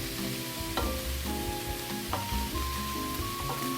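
Ground hamburger meat frying in a pan, a steady close sizzle with scraping clinks as it is stirred, occasional metallic taps of the utensil against the pan.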